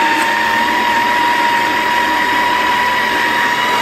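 A TUUMIIST juicer machine spinning at a constant pace, a loud steady mechanical whir with a sustained tonal hum and a faint ratcheting grind, close and unbroken, no voices.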